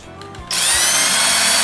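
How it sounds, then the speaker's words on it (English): A power drill bores a pilot hole into a hard plastic tab on a DIY wadefishing box. A few faint knocks come first, then the motor kicks in with a loud, steady, high whine that runs to the end. "You'll wanna take your drill, center it on that hard plastic tab."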